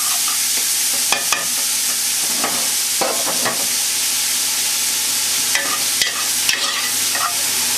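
Food sweating down in a very hot pot over an intense flame, a loud, steady sizzle and hiss with occasional stirring scrapes and knocks, no voices.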